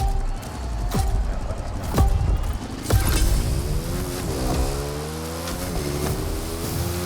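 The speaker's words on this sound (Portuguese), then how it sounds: "We start with the water bike." A revving water bike engine in The Crew Motorfest video game, a continuous loud motor that rises and falls in pitch over several throttle changes, with splashy, rushing game noise and occasional thumps.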